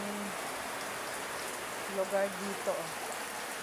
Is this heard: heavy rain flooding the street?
yes